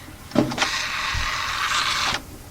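A person's voice imitates a little car, making a short vocal onset followed by a sustained, buzzing whirr that lasts about a second and a half and then stops abruptly. The sound is close and moderately loud.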